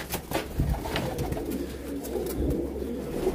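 Pigeons coo in a low, rolling series of calls close by, overlapping against a busy background of rustling and fluttering.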